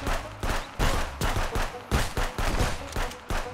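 Gunfire in the video game Contraband Police crackles as rapid, loud bursts of shots in a steady fusillade, dense and close, with no speech over it.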